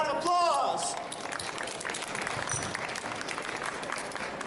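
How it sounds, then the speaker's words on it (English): A seminar audience on chronic pain breaks into applause, a brief spoken word at the start giving way to a steady patter of clapping from the crowd. "Give those people a round of applause"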